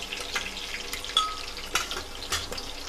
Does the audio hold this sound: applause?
no